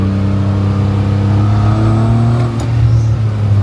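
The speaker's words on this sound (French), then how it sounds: "on va laisser la voiture déjà se remettre en température." A drift car's engine idles steadily and close at a track, warming up with a constant low rumble and slight rise in revs, no voices.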